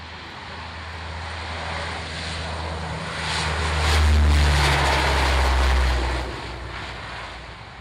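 A propeller aircraft's engines drone as it takes off from runway 27, a low steady rumble that swells louder midway through and then eases back.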